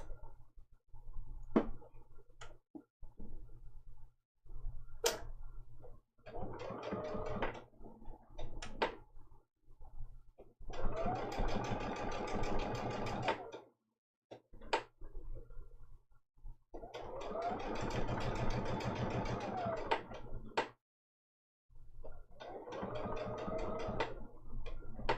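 A sewing machine stitches appliqué, running in several sustained bursts of steady rapid needle chatter, interrupted by short pauses and isolated clicks as the needle stops and repositions.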